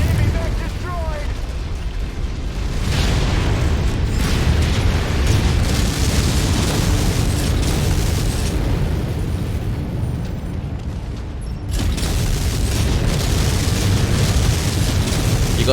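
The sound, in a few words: mech explosion in MechWarrior 5 video game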